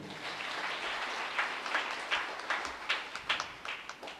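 Applause from a congregation at a Tamil church feast-day gathering: steady, fairly soft clapping that swells with sharper bursts toward the end, with no voices over it.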